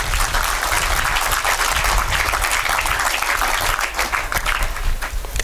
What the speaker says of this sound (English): let us give John Todd a big round of applause